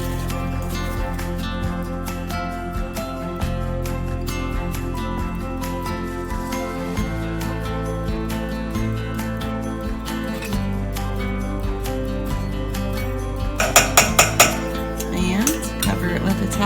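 Sourdough bread ingredients being mixed in a bowl, with steady clinking and scraping of utensil against the bowl and a short burst of brighter clatter near the end; close and continuous, no talking.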